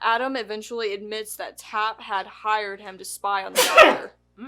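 One sharp, loud sneeze bursts out near the end, right after a stretch of talk, and is followed by a brief silence.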